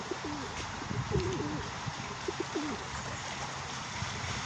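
Soft cooing calls from a dove-like bird near a nest repeat in short phrases against steady outdoor background noise, faint and somewhat distant, with no talk.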